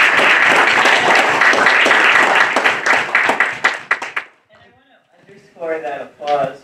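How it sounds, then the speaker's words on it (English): A room full of people claps warmly for two professors after a conversation on art and interwar politics; dense, loud applause fills the first four seconds, then fades out as a voice begins speaking. "I just want to give these two a round of applause."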